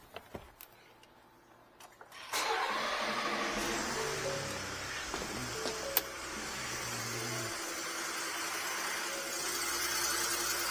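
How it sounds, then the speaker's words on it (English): A Ford F-150 EcoBoost engine cranks and catches after a couple of quiet seconds, then settles into a steady cold idle with a clangy, rattly tone, heard close and alone. "I'm just going to go ahead and start up the engine, let this run the entire time we're testing it."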